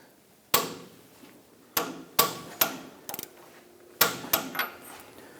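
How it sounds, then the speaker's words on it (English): Sharp metallic clicks and knocks from a wrench working a castle nut on a Hummer H3 lower ball joint, about eight distinct close hits spread irregularly over a few seconds, some in quick pairs, with quiet gaps between. "I'm going to go ahead and torque this down to 62 foot-pounds, followed by an additional 60 degrees."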